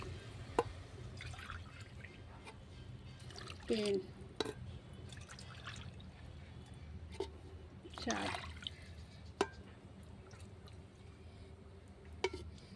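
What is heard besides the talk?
water poured into pot for khichuri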